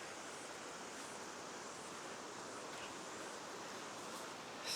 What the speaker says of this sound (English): And we're back at the river.